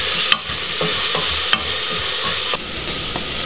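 Vegetables and onions sizzling loudly in a pan, a constant frying hiss broken by a few scraping stirs and utensil taps.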